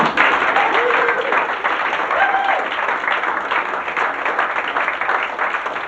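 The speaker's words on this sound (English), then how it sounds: "Give her a round of applause, everyone." An onboard audience on a cruise claps loudly and steadily for a fashion model showing an outfit, with a faint voice or tone rising briefly over the sustained applause.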